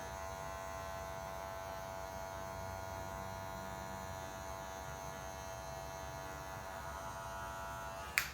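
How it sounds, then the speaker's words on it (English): Electric clippers buzz steadily up close for several seconds, a constant whirring drone as they cut through beard hair, ending with a brief click. "You can hear the hair cutting."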